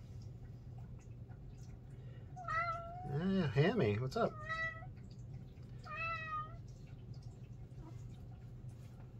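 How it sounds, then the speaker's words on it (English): Several house cats in a painting studio meow repeatedly in a cluster of loud close calls, then give another meow a few seconds later, over a low steady room hum while a person speaks briefly. "All the cats want my attention."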